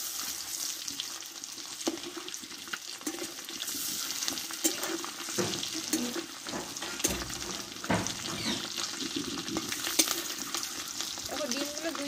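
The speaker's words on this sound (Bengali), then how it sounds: "দেখো ডিমগুলো 2 পিস ভালোভাবে ভেজে নেব" Two eggs fry in hot oil for a spicy dry egg dish with onion greens, giving a steady crackling sizzle with occasional scraping of a spatula against the pan, close and continuous throughout.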